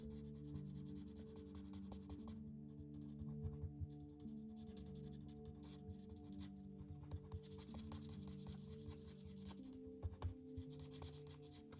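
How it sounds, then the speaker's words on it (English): Coloring pencil or marker rubs steadily across paper, shading in a tea bag shape with light peach color; soft, close scratchy strokes repeat in an even rhythm with brief pauses, and no one speaks. "I'll just color in my tea bag that color too."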